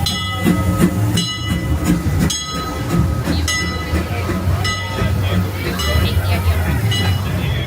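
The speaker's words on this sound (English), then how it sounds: "The cavalcade is coming down Main Street while the Disneyland Railroad comes in." The Disneyland Railroad train rumbles into its station at Disneyland during a parade on Main Street, amid a busy outdoor crowd, with metallic clinks and rhythmic clatter over steady background music and chatter.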